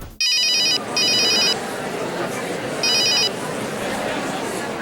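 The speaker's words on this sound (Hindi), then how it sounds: "चल सिमर दीदी का नंबर लगा जल्दी।" A telephone rings on an outgoing call in a Hindi TV drama, three bursts of an electronic ringback tone with gaps between, loud and close over a faint room background.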